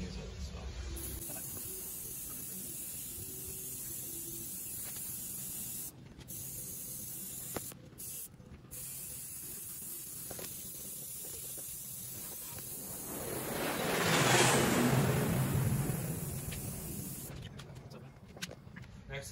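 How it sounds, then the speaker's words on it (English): Preval aerosol sprayer applying coating to a Grady White boat hull under gelcoat repair for storm damage and dock rash, a single steady hiss swelling in the middle of the clip over faint background noise. "These sprayers are pre-valve sprayers."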